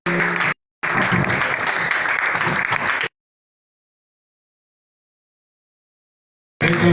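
A church congregation claps together in two loud bursts, the first cut off after half a second and the second lasting over two seconds, followed by a long silence before clapping resumes at the very end.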